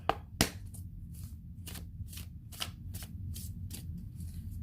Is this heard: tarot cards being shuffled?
yes